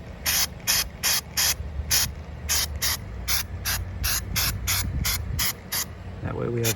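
Short bursts of Nu-Calgon pan spray hiss onto the backside of a leaking drain pan, roughly a dozen evenly spaced, loud, close sprays with brief gaps, over a low background hum and a faint clatter at the end.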